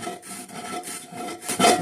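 Harsh, rhythmic scraping of a cast iron pan being scoured, several rasping strokes back and forth, close and fairly loud with no talking.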